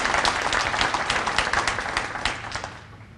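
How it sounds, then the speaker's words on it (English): Audience applause at a Prince George's County state-of-the-economy gathering, a roomful of clapping with distinct hand strikes that stays steady and then gradually thins and fades toward the end. "Can we give them a round of applause?"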